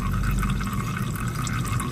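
Used engine oil steadily drains out of an Onan 2.8 generator in a continuous, gurgling liquid trickle, close by and with no voices.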